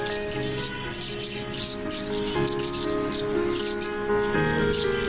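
Small birds chirp and twitter in a garden in Nagpur, busy high-pitched calls repeating throughout over a steady insect-like drone, close and continuous with no talking.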